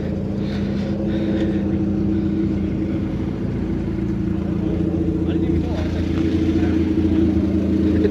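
Idling Honda 8th gen car engine as it is driven into a shop at a car show, a steady low rumble and hum with slight revs, people talking over it.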